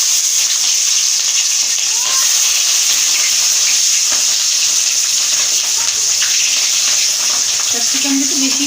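Capsicum frying in hot oil for a cauliflower and potato curry, a steady loud sizzle and hiss throughout with light stirring scrapes and faint talk in the background.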